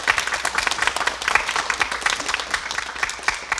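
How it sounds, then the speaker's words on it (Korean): Audience applause welcoming a lecturer, a professor of medicine, onto the stage at a Korean broadcast lecture event; dense, steady clapping from a full room that carries throughout. "여러분 큰 박수로 맞아주시죠."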